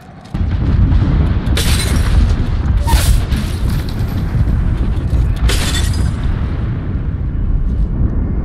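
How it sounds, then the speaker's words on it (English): An airstrike in the battle royale game Apex Legends sets off a heavy, sustained rumble of explosions, with several sharper blasts bursting through the roar, loud and close throughout. "Airstrike."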